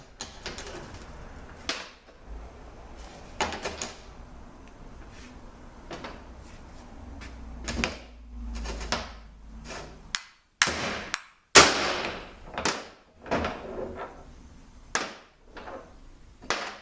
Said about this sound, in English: now we want to knock this hub off so we can separate everything